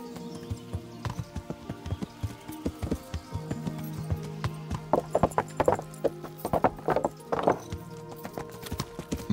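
Horse hooves clip-clop steadily at a brisk gait while riding in Kingdom Come: Deliverance, with occasional snorts and a whinny, against a busy background of game sounds.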